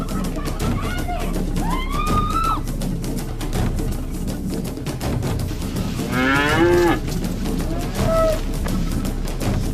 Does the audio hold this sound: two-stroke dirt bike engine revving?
no